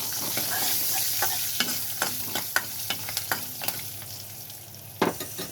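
Pepper, cumin and garlic sauté in a pan, with a soft steady sizzle under repeated scraping and tapping strokes of a spoon stirring close up.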